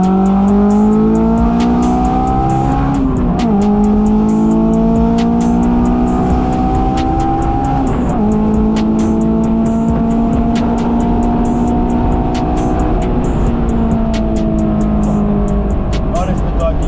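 A Honda S2000 engine revs hard toward 9,000 rpm, loud and close, its high-pitched wail climbing through repeated pulls with brief dips between shifts, sustained over the whole stretch.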